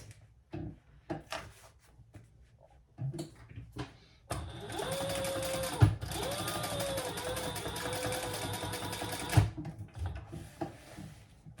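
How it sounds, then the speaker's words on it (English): A sewing machine runs steadily while top stitching the sides of a triple-zipper crossbody bag, a fast close mechanical whirr lasting several seconds, preceded by short clicks and handling noises of the fabric and machine. "We are going to top stitch on those little sides."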